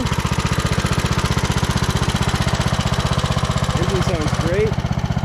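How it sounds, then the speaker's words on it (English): A 2009 Craftsman YTS 3000 lawn tractor engine, newly fitted with a camshaft, runs steadily at close range with a fast, even chugging pulse, and a brief voice breaks in near the end. "Engine sounds great."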